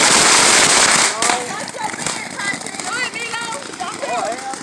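Ribbon fireworks burn at a backyard family display with a loud, dense crackling burst at the start that thins into steady popping and hissing, while people chatter and exclaim over it.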